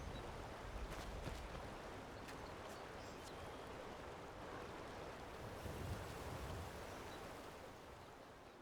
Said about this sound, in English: The sound of the water lapping on the bank makes me feel